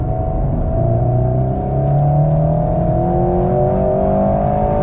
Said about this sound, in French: J'aime bien la petite sonorité quand même, légèrement là, du moteur.